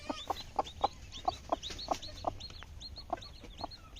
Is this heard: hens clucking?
yes